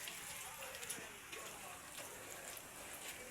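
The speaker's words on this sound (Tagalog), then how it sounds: "Umuulan pa rin." Steady rain hiss with scattered drip-like ticks, a continuous wet wash filling the background with no clear voices.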